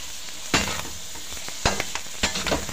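Bopis being sautéed in a pan gives a constant sizzle, broken by several sharp bursts of scraping and stirring from a utensil, close and clear.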